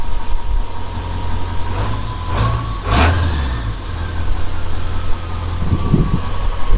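A Ford 7.3 PowerStroke diesel pickup truck engine idles steadily close by, a continuous low rumble with a fan-like hum and a couple of brief swells partway through, with no talking over it.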